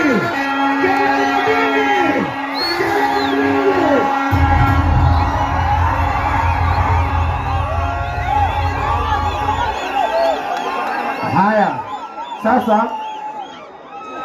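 A large crowd cheers, whoops and shouts at a stage reception welcoming a woman after her 72-hour record attempt, a dense loud roar with overlapping voices and sharp yells that eases and then swells again near the end.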